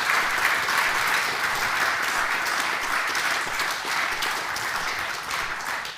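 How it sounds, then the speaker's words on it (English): Sustained applause fills a conference auditorium during an XML Prague 2022 session, a steady wash of many hands clapping at even loudness throughout, with no voices. "Have you heard applause from the auditorium?"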